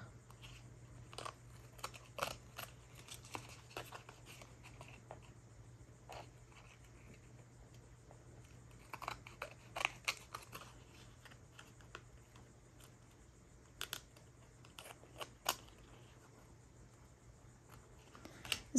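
Scissors trimming excess paper from an altered handmade card, heard as scattered small snips and crisp paper cuts in irregular bursts, close and faint against a quiet room hum, with no talking.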